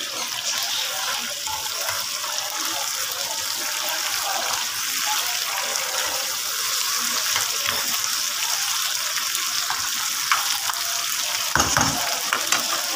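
Pota karahi simmering and frying on a low flame gives a steady soft sizzle and bubbling hiss, close but fairly quiet, with a brief louder clatter near the end.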